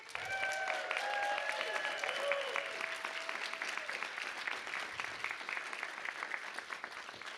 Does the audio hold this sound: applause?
yes